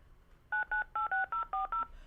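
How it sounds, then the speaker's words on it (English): A quick run of eight telephone keypad DTMF tones entering a conference PIN, evenly spaced electronic beeps, clear and isolated over a quiet background. "Please now. enter your PIN number."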